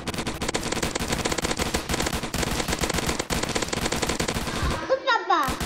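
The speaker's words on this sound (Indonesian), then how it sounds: "Awas, nanti kena papa tembak lagi." Dense, continuous rapid-fire gunfire in the Roblox game Zombie Attack, loud and unbroken for several seconds before cutting off into a short burst of game effects.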